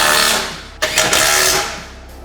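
A power tool runs as it tightens skid plate screws on a 4th-generation Toyota Tacoma: a loud, close buzzing whir that briefly cuts out and restarts in short bursts, then winds down.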